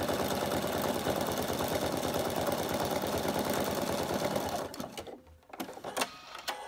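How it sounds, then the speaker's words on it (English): A sewing machine runs fast and steady doing free-machine embroidery stitching on a vintage caravan design, a close rapid mechanical chatter for several seconds before stopping, followed by a few quiet clicks and handling sounds. "and then just do your stitching"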